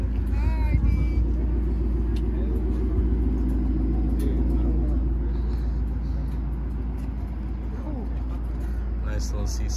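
Several performance cars, among them a supercharged C6 Corvette Grand Sport and a diesel twin-turbo Mustang, idle together at a private nighttime meet, making a steady low rumble throughout while people talk over it.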